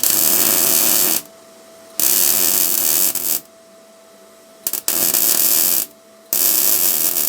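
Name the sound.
MIG welder (R-Tech MIG181) welding straight into rusty thin metal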